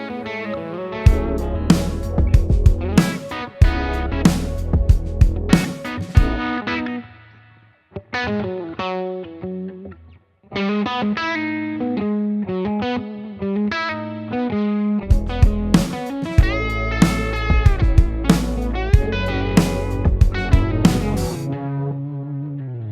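Electric guitar through a Universal Audio Dream 65 amp-modeling pedal, modeled on a '65 Deluxe Reverb, playing chords and single-note riffs with a clean tone and some effects, stopping briefly partway before resuming; no talking.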